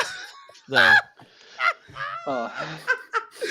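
Loud, nasal honking calls like geese come in short bursts with quiet gaps between them, close by, with what sounds like laughter or voices mixed in.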